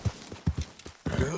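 Horse hooves clip-clop in Red Dead Redemption 2, a handful of close, distinct hoof beats in an uneven rhythm, followed by a brief, louder burst of rustling noise at the end, with no talking.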